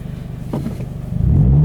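A manual Subaru BRZ pulls away from a stop, its engine rumbling low and close, then rising in revs as the clutch engages and the car moves off.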